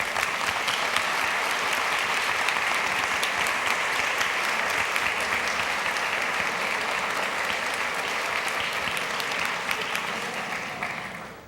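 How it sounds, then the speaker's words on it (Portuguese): A church congregation standing for graduates' families gives thick, sustained applause that continues evenly for about eleven seconds before tapering off at the end. "E agora vocês batam palmas para eles."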